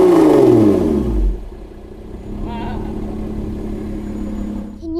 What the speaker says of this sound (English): now we're gonna do the same rev, but with the valves open.